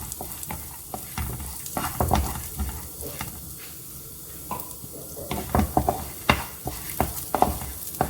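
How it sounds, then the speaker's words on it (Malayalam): Parippu lentils roasting in a spoonful of ghee in a pan make a soft, steady sizzle with repeated scraping strokes of a spoon stirring them, close and continuous without talk. "അപ്പോൾ ആ പരിപ്പൊന്ന് വറുത്തെടുക്കാൻ വേണ്ടിയിട്ട് ഞാൻ ഇവിടെ 1 സ്പൂണ് നെയ്യ് ചേർത്തിട്ടുണ്ട്."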